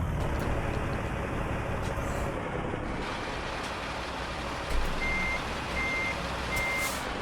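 A truck hauling a 53-foot reefer trailer manoeuvres in American Truck Simulator. A low engine rumble runs underneath, and a short series of evenly spaced reversing beeps comes in near the end.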